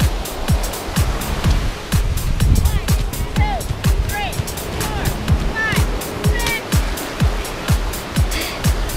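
Ocean waves wash steadily onto a beach in a continuous broadband roar, with distant voices and calls of beachgoers scattered over the surf.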